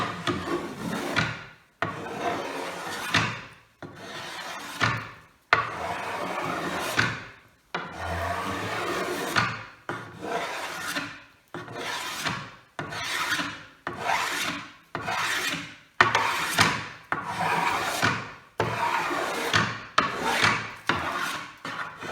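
A two-handled drawknife is pulled along wood to take off shavings for a paddle, making repeated rasping strokes, each about two seconds long with short pauses between, close and clear with no talk.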